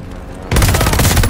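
A strafing run from an allied airstrike in the video game Call of Duty: Vanguard bursts in abruptly as loud, rapid, continuous machine-gun fire that lasts to the end.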